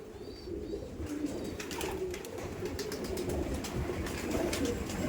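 Black-spotted Madrasi pigeons coo softly in a loft, a steady low murmuring over a constant background hum, with a few faint higher chirps scattered through.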